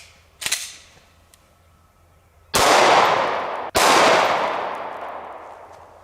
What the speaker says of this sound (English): First, let's take a shot at it with the 9mm.